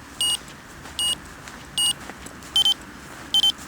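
A BCA Tracker avalanche transceiver emits a tracking tone as a regular series of short electronic beeps, about five, with the last ones doubling up, close and clear over faint background noise.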